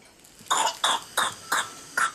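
An infant with whooping cough coughs five times in a steady rhythm, each short, hoarse and strained, close by with brief pauses between.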